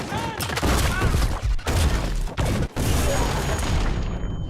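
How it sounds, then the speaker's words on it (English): Grenades explode in a close-range combat scene from the film Ballerina: loud, heavy booms and crackling blasts in rapid succession, with dense bursts of gunfire-like impacts and brief near-silent gaps between volleys. "It's about explosive destruction, about using grenades at close range and opening pathways at the same time."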